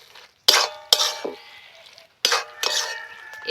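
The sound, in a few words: stirring and mixing a cabbage dish in a pan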